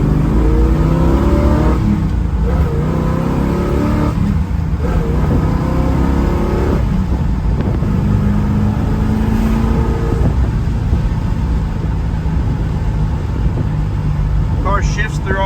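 A 1971 Chevrolet Camaro RS Z/28 with a 350 engine accelerates hard, its loud, close engine note rising in repeated sweeps with brief dips at each gear change, while voices murmur faintly underneath.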